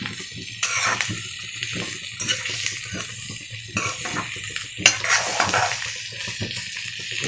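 Baby potatoes being tossed and stirred in a pan to coat them in pepper and spice, with scraping and light clatter in bursts against a low background sizzle.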